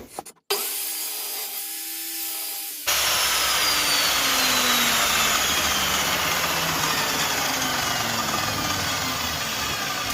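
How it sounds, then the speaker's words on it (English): A saw cuts mitres on the wooden border edges of a chessboard. After a short quiet stretch, it drones on steadily and loudly for about seven seconds with a whining, rasping tone. "Now that we have the edges all cut, I am now going to mitre them so they now fit together."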